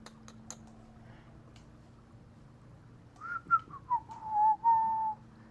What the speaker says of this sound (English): it's got me whistling the damn Christmas music.